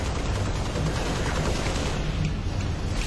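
Constant rapid gunfire in the video game Halo Reach, a dense, loud stream of shots with no pauses.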